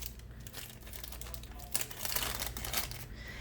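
An empty Ziploc plastic baggie crinkles and rustles in the hands in a classroom setting, a close, continuous crackly handling sound with a few sharper crunches, and no talking.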